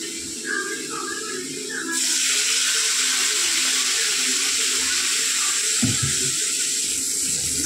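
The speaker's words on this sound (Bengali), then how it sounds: "মধ্যে আমি জল দিয়ে দেবো।" Water is poured into a pan of fried onions, starting with a soft crackle and then turning into a loud, rushing, hissing gush that runs steadily to the end.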